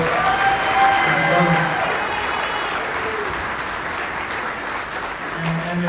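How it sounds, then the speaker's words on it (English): An audience claps in a sustained round of applause at a community tribute event, dense and steady throughout, with some voices mixed in beneath the clapping. "round of applause"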